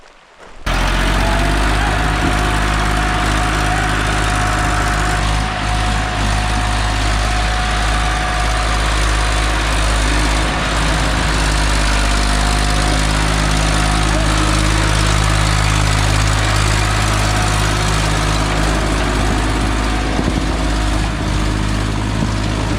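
A tractor engine rumbles loudly and steadily nearby at a rain-soaked harvest field, a low continuous drone that holds unchanged throughout.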